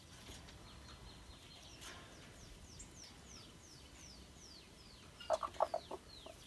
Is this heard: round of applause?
no